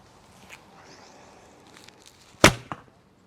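An arrow is loosed from a 40 lb Horn KTB II bow with long feathers and a short brace height: one loud, sharp slap followed by a softer second knock, after quiet rustling.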